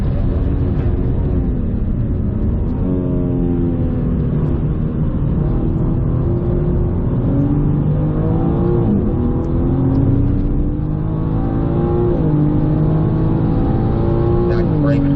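A BMW M4 GT4 race car engine pulls hard on track, its loud harmonic roar rising and falling through repeated upshifts and downshifts, with an instructor's voice talking over the steady engine drone.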